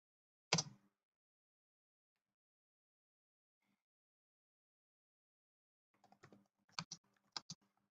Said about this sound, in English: Okay, so now we will start typing in our response